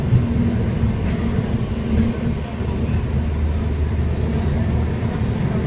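The Darjeeling Mail (12343) arriving at New Jalpaiguri station on a foggy morning gives a steady, loud low rumble that runs unbroken throughout, with faint voices mixed in beneath it.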